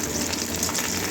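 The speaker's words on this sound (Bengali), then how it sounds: "তেল গরম হয়ে গেছে, এবারে রসুনটা দিয়ে দিচ্ছি।" Garlic frying in hot mustard oil, a steady close sizzle with a bright hiss throughout, no voices.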